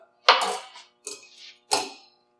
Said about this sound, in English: Robbie's going to do the old stir up